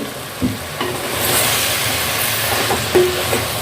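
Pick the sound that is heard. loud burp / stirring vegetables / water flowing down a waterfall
stirring vegetables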